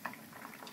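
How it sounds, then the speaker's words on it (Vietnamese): A steamer pot of sweet potatoes boils over high heat, giving a soft, steady bubbling and hissing of water that continues evenly throughout, close by and alone. "Đây cái nồi hấp khoai lang"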